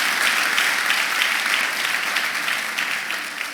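A church congregation breaks into loud, sustained applause, a dense wash of many hands clapping together at close range for the whole stretch, with no speech over it.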